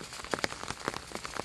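Steady rain pattering on a surface outdoors on a mountain slope where matsutake mushrooms grow, with scattered louder drops over a constant patter and no voices.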